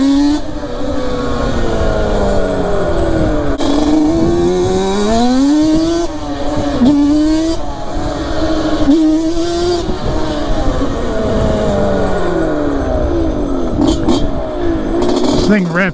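A 90hp Banshee quad rides hard, its two-stroke engine droning loud and close as it revs up and drops back between gear changes, with a rising-falling whine running throughout.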